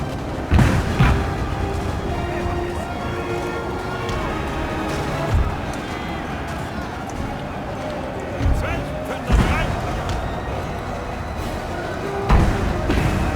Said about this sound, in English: I think this has been one of the most vicious displays of canister in this series so far